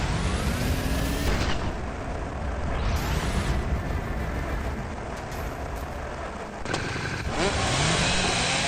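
A motorcycle engine in a video game revs hard and loud in long sustained bursts, with abrupt cuts and rising pitch sweeps as it accelerates, alongside crashing game effects and no voices.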